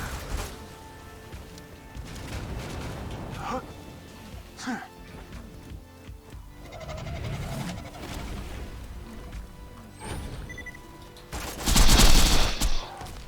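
Gunshots and automatic gunfire from Borderlands combat on Digistruct Peak, scattered shots through the middle and a loud dense volley near the end, mixed with game effects.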